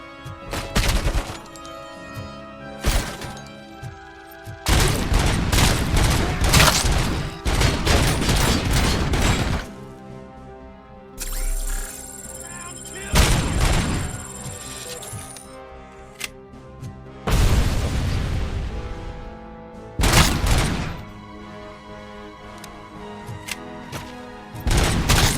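Heavy gunfire from the RoboCop Rogue City video game: repeated loud bursts of shots and booming impacts, broken by brief lulls with a high ringing tone, across the whole stretch.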